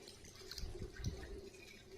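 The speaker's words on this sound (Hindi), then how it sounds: "तो अब हम इसमें पानी डालेंगे।" Water is poured into a pot of mutton paya (goat trotters) to make a broth. It makes a faint, soft splashing trickle with a few slightly louder gurgles, heard alone in a quiet kitchen.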